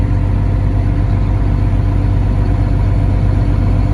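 A farm tractor engine runs steadily at idle while hauling manure, a constant low rumble with even mechanical churning throughout, close and fairly loud, with no voices.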